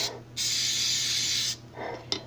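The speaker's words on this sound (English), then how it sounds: "You're going to spray them really well so they will come out nice and easy." Cooking spray is sprayed into mini cake tins for pineapple and strawberry upside-down cakes, as one steady close hiss lasting about a second, followed by a shorter, softer burst.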